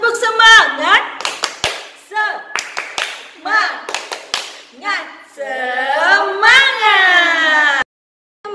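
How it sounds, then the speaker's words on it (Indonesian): Kindergarten children clap and chant together in a class cheer, sharp rhythmic hand claps mixed with loud young voices, ending in a long sustained shout. "Yuk, tepuk semangat."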